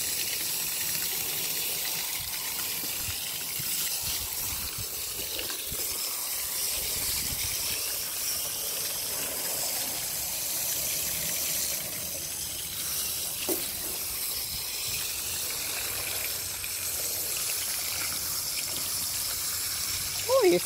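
A spray nozzle hisses steadily as a Malamute is rinsed in a bathtub, the water a continuous close gush and sizzle lasting throughout, with a few faint knocks.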